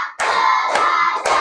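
Classroom of children clapping together in rhythm, a sustained burst of group hand claps with a few sharper accented beats, close and clear without speech.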